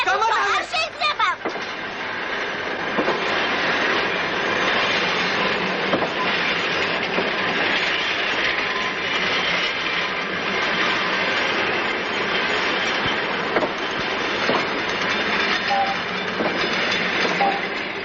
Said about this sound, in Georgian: მატარებელი ნომერი 645, ხაშური თბილისი, დგას პირველ ლიანდაგზე